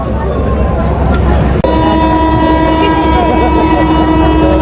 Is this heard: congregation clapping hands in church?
no